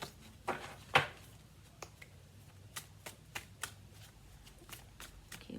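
Tarot cards shuffled for a reading: a quiet string of crisp riffles and taps, one sharper snap near the start, then scattered card flicks at a steady, unhurried pace, close and soft with no voices.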